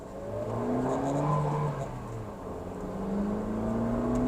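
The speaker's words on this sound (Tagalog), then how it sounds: "Tapos yung engine sound." A Suzuki Dzire AGS rental car engine revs up and down twice, a moderate whirring rise and fall heard from inside the car, with no speech.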